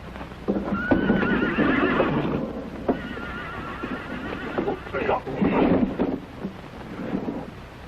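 Horses whinny and neigh amid clattering hooves and rough outdoor noise in a 1968 Italian western film, loud and close, with voices mixed in.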